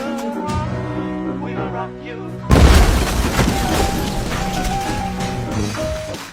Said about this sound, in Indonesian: Suara ledakan